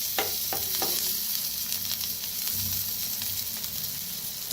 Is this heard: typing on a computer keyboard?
no